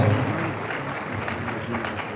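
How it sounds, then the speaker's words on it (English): Audience applause at a political rally held at Central University, a dense steady patter of clapping throughout, fairly close and continuous with no pauses. "Please clap for me."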